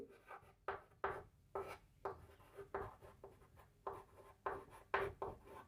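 Marker or chalk writing on a board while a class 10 maths table on the arithmetic mean is drawn up. Quiet, close, rhythmic scratchy strokes come in short repeated bursts, with no talk.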